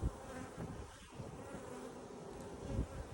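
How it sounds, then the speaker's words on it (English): Honeybees buzzing close by at a hive during colony removal, a steady dense drone with wind gusts rumbling underneath and no talking. "Here's another baby bee."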